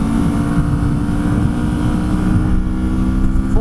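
Kawasaki Vulcan motorcycle at full throttle, a steady, loud, low engine drone with a constant harmonic hum and wind buffeting the microphone throughout, no pauses or talk.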